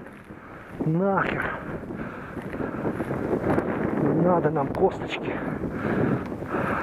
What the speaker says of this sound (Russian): Ветер с севера.